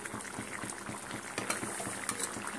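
Chickpea curry with crushed kasuri methi bubbles in a pot, a dense, close, steady simmer of small popping bubbles with a few louder plops, heard on its own.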